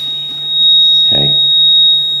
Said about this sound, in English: This beeper is emitting a constant pitch.